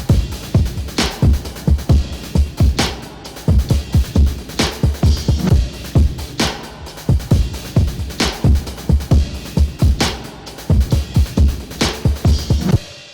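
A beat-style drum loop treated with room processing for a live feel, with punchy kicks and snappy hits repeating in a steady groove, loud and alone.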